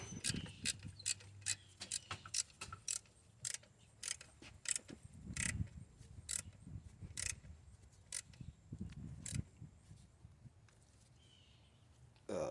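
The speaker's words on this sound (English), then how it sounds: "I'm going to tighten up the bottom bolt" A ratchet wrench tightens the bottom alternator bolt on a 2001 Honda Accord, giving quick bursts of close metallic clicks with short pauses and some faint handling noise in between.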